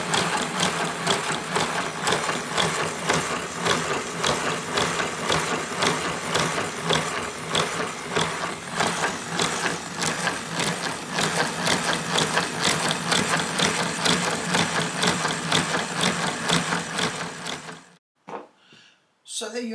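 A homemade wooden automatic chisel sharpening machine runs steadily with a clunky, rhythmic mechanical clatter and rattle, fairly loud and close, for nearly twenty seconds before cutting off abruptly.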